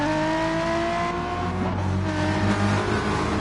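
Several GT1 race cars roar off the start of a Gran Turismo race on Tokyo's South Outer Loop, engines droning loudly and steadily as they accelerate together with no gaps, alone without any voice.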